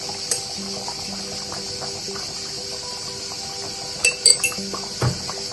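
A metal spoon clinks against a pot several times in quick succession while garam masala goes into a simmering chicken curry, with a low steady background hiss.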